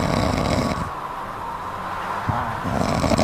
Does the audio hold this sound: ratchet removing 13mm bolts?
no